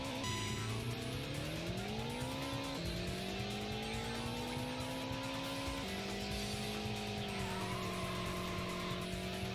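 Racing Lagoon race car braking, with rising and falling engine revs and a long tire squeal as it skids, loud and continuous with no talking.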